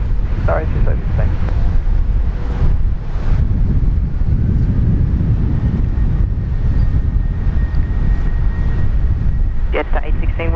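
An Airbus A330 jet airliner takes off at Brisbane Airport with a loud, sustained low roar of engines that fills the whole stretch, while voices talk intermittently over it.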